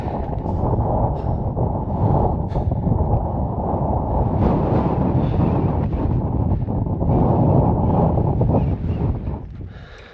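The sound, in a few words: strong cold wind high on Colorado's tallest mountain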